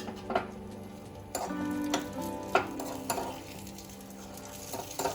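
Fried onions or shallots sizzle steadily in a pan while cooking oats veg paneer cutlets, with a continuous crackle and occasional sharp ticks and stirring clatters close by.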